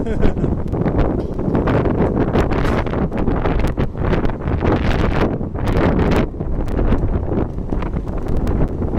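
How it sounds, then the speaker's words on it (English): Strong wind buffets the microphone with loud, continuous rumbling gusts, nearly drowning everything else, on a street in Shinjuku, Tokyo. "extremely windy right now"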